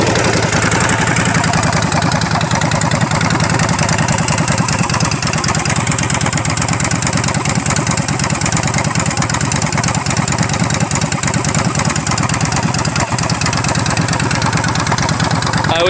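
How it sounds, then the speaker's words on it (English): A 2003 Yamaha V-Star 1100 bobber motorcycle with no muffler runs near the recorder. Its engine gives a loud, steady, rough idle throbbing for the whole stretch, with no clear speech. "let me give it a quick start up"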